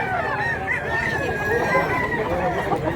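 A rooster crows in a long drawn-out call over busy background chatter and other fowl noise, with people talking nearby throughout.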